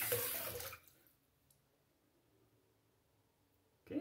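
Cold tap water gushes briefly as a razor is rinsed under the faucet, a loud splashing rush that cuts off within a second, followed by near silence and a short burst of water again at the end.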